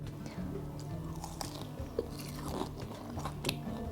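Someone biting into a crispy Korean potato pancake (gamjajeon), giving a few sharp close crunches followed by soft chewing, with faint background sounds.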